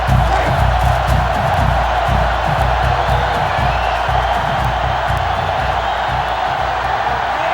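A football stadium crowd in the NCAA Football 2005 video game roars steadily and loudly throughout, a dense wall of cheering and shouting with a commentator's voice underneath.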